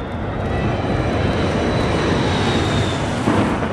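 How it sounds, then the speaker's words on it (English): A passenger airliner descends toward a storm, its engines giving a loud, continuous broadband roar with a faint steady whine, heard close and unbroken throughout. "As the plane descends"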